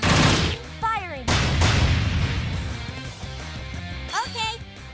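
Rapid bursts of gunfire from the video game Dark Rose Valkyrie crackle loudly and close, mixed with game music and effects, while voices speak over the shooting.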